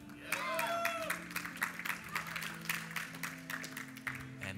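Crowd at a StarCraft esports tournament match cheering and clapping for a Zerg player, scattered applause under a commentator's ongoing talk, with a bright tonal sweep near the start.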